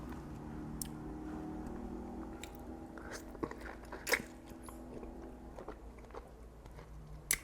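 Santol and guava fruit being bitten and chewed, giving several sharp crunchy bites and softer wet chewing sounds spread across the moment, close and fairly quiet with no talking.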